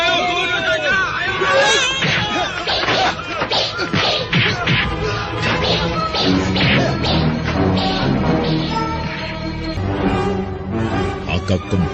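Battle sound effects in an Indonesian audio drama set in the Singasari era: a dense, continuous stretch of clashing, smashing and whacking impacts mixed with shouting crowd voices, loud and busy throughout.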